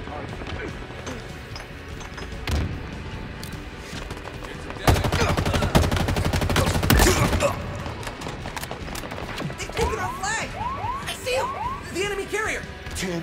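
Rapid gunfire bursts and fusillades in Halo Infinite Capture the Flag on the Behemoth map, played on Xbox Series X, with loud clusters of shots mid-clip over game sounds and in-game voice callouts.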